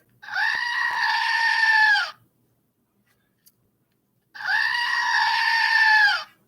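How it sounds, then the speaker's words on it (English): A Screaming Goat novelty toy lets out two loud, close, goat-like screams, each lasting about two seconds, with a quiet pause between them. "so there's the Screaming Goat"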